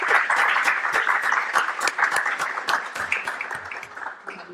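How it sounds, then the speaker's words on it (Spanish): Applause from a small audience at a poetry talk with poet María de la Cruz: many distinct, close hand claps that thin out toward the end. "Y pues un aplauso"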